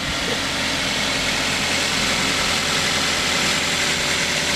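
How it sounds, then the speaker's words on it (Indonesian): A 2011 Toyota Avanza engine idles steadily, low and continuous with an even, smooth hum and no knocks or irregular sounds, close to the listener. "kalau suara mesin satu kayak gini nih, nggak ada suara-suara yang aneh-aneh, suaranya masih langsam"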